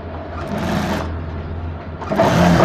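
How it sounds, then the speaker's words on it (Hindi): A sewing machine stitching a zip onto fabric while converting an anarkali into a lehenga choli, running in a steady low mechanical hum that strengthens in short bursts, fairly quiet and without talk. "इसमें एक पैर की सिलाई लगाने वाले हैं"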